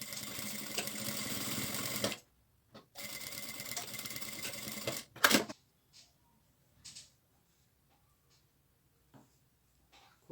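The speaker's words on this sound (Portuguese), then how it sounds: "E aí eu tenho que costurar por cima dos dois retalhos de baixo. Faço a costura de 1 centímetro." A sewing machine stitches a 1 cm seam across fabric scraps in two close, loud bursts of rapid needle chatter separated by a short pause, then stops, leaving only faint handling clicks.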